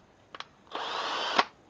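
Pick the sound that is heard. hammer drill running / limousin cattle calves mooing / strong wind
hammer drill running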